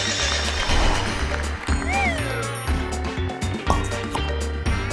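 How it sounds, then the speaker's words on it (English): A horse in a farm animal puzzle game gives a loud whinny over a busy, bouncy game soundtrack, with a few clip-clop hoof sounds and no voices. "It's a horse."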